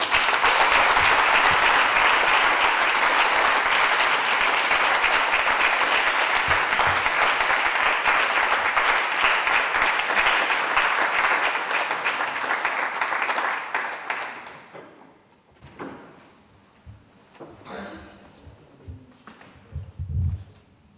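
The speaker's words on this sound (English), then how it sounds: "I want to give a nice round of applause for Dal Ashdown and Master Rachel." An audience at a taekwondo academy black belt grading applauds in a long, dense round of clapping that holds steady for about fourteen seconds, then fades to scattered claps, shuffling and faint room noise.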